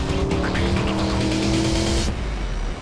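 A Mercedes SLS AMG F1 safety car with a 6.3-litre V8 roars past on a racetrack, its engine loud and sustained with a brief tire squeal, then dropping off slightly as it moves away.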